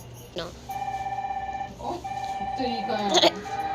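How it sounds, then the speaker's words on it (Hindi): A steady electronic alarm ringing tone pulses repeatedly, fairly close, while people talk over it. "अलार्म बजा रखा है"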